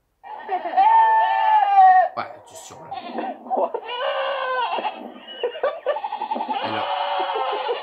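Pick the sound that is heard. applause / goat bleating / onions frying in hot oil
goat bleating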